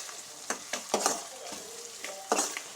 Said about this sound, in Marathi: ते छान मिक्स करून घ्यायचं